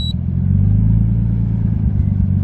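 A Nissan Skyline engine held just above idle, a loud, steady low rumble with even throbbing pulses over a brief moment, close up and alone.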